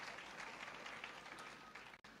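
Audience at a university World AIDS Day event cheering and applauding, a dense steady wash of clapping that holds evenly and cuts off abruptly near the end.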